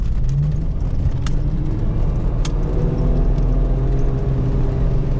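A Jeep Cherokee Laredo XJ engine pulls steadily under throttle, a close, even drone with road noise and no speech.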